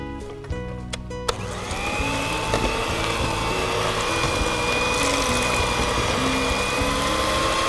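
An electric hand mixer whirs steadily through ginger and lemon cake batter as milk is added, a loud continuous motor drone with a slight whine that starts abruptly after a few clicks and holds for several seconds.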